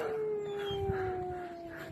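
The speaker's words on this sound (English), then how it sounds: "So this is outside of our office. There's some more dogs." Dog howling outside an office, one long sustained wavering howl with its pitch slowly sliding down, moderately close, while faint lower rumbling sounds in the background.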